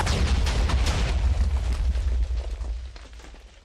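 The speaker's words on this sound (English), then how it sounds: "something went drastically wrong there and blew up the entire cannon" A TNT cannon blowing itself apart in Minecraft: a loud, deep, rumbling explosion that fills the space and slowly fades out over a few seconds.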